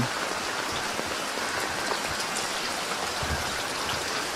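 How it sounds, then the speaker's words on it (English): Steady rain patters continuously on a surface, with scattered individual drops standing out against the even hiss. "it's just started raining"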